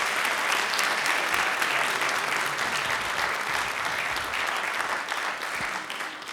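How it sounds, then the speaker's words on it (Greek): A packed audience at the Plifa venue gives a long, warm round of applause, thick and sustained for several seconds and loud and close, fading slightly toward the end. "θα ήθελα ένα πάρα πολύ ζεστό χειροκρότημα για το χώρο που μας φιλοξενεί εδώ"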